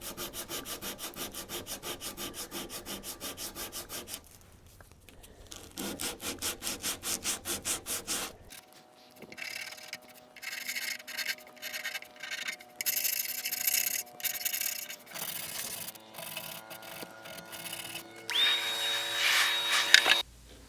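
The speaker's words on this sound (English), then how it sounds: "Often when I scrape the edge of veneer on a piece, I hold my scraper at a slight angle to the edge." A hand scraper works over wood veneer on an antique chest of drawers, making rhythmic rasping strokes in quick bursts, then longer, uneven scraping passes that rise and fall, close and fairly quiet, with no voices.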